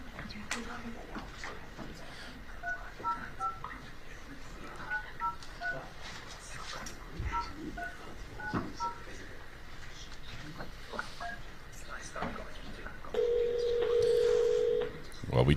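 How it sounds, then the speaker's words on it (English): A telephone keypad sends a run of short touch-tone beeps at an uneven pace, then a louder steady tone holds for about two seconds near the end, with faint voices and room noise underneath. "Well, we just heard DTMF tones,"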